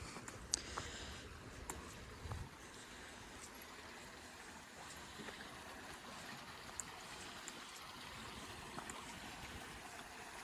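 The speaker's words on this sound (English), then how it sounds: "It's like a nice little stream." A small stream in Cades Cove trickles continuously on a cold, quiet morning, a steady soft wash of water with occasional light clicks and no voices.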